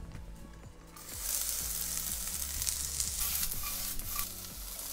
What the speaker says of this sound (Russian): на хорошо разогретой сковороде начинаем обжаривать лук.